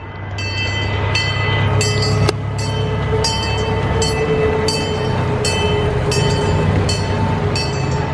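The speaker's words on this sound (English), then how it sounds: "Rudolph the Red-Nosed Reindeer is guiding the sleigh around the track." A small Rudolph-themed miniature train runs around a track, a steady rolling rumble with regular clicking beats from the rails, close and fairly loud.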